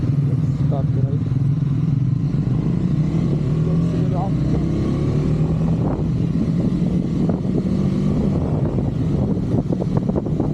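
A motorcycle engine runs steadily at the start of a group ride to Chincholi Wildlife Sanctuary and Ethipothala Waterfalls, a continuous loud low drone with clattering and other vehicle noise, while voices talk over it.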